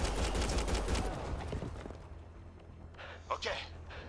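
Rapid gunfire from the Mass Effect Andromeda video game, a dense burst of shots for about two seconds, then fading to a couple of scattered reports, with voices talking over the action.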